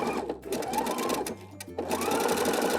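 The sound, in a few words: sewing machine stitching a fabric pin cushion strap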